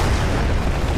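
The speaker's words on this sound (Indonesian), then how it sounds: "ledakan bom pun terjadi kembali" A bomb explosion in an Indian police action film erupts as a loud, dense, sustained boom with rumbling low end that fills the whole second, with no voices.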